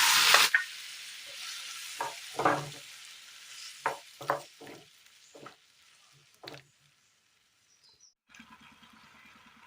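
Boiled elephant foot yam stirred into sizzling egg curry in a pan: a sharp hiss at first, then scattered spoon scrapes and soft sizzles with quiet gaps between them.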